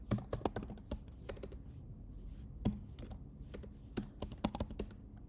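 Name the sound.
typing on a computer keyboard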